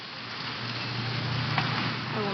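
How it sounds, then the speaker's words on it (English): Steady video game rainfall, a soft continuous hiss with a low hum underneath and one faint click. "It's gonna rain the whole weekend,"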